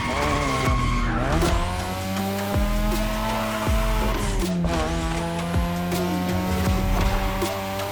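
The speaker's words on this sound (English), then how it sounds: "Tonight your ride is a 3rd Gen 2002 Mazda RX-7." A 2002 third-generation Mazda RX-7 race car in a Japanese racing video game, its tires squealing loudly and continuously under a droning engine, with pitch sweeps as the car slides through corners.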